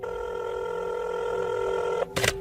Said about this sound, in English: With her other hand, she grabbed her phone and dialed a number.